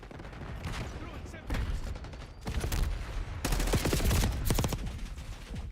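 Gunfire in Call of Duty: Black Ops 6 during a Hardpoint multiplayer match, with repeated bursts of shots growing denser and louder toward the end, mixed with game sounds and a voice in the background.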